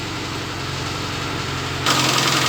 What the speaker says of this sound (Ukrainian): Двигатель робить рівно, чек не висвічується